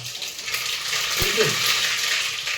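Mustard seeds tossed into hot oil in a village kitchen pan crackle and sizzle steadily, with a brief clatter as they drop in, close and moderately loud, with no voices.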